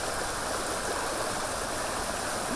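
Steady, dense rush of the flooded Sita River in Karnataka after heavy rain, a continuous broadband roar with no pauses and no voices.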